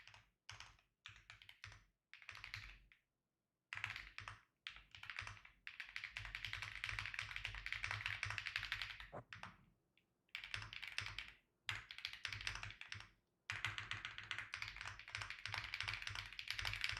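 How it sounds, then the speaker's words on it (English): Typing on a computer keyboard during live futures trading, a dense run of close, quick key taps in bursts separated by short pauses, with no talking. "I'm kind of typing up a little bit here."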